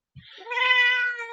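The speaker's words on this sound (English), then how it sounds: "and this is Cassie the garden cat." A garden cat gives one drawn-out, clear meow lasting about a second, close and fairly loud, after a brief soft sound at the start, with no talking.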